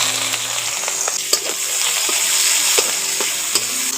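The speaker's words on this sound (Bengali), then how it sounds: "ওই তেলের মধ্যে এখন পেঁয়াজ কুচি দিয়ে দিচ্ছি।" Chopped onion sizzles and fries steadily in hot oil in a pan, a close, continuous crackle with occasional stirring scrapes and clicks.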